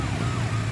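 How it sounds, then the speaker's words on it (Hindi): An ambulance siren wails on a busy road, a steady tone heard at moderate distance under traffic noise for a brief moment. "अरे भाई एम्बुलेंस को जाने दो।"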